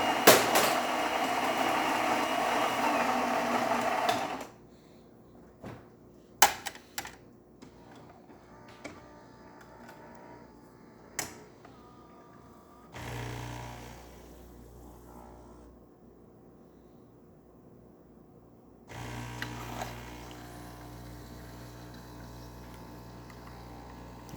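Saeco espresso machine after a full service tune-up, its pump loud and steady for several seconds, then dropping to quiet clicks and ticks with a softer hiss of brewing before the pump surges again near the end.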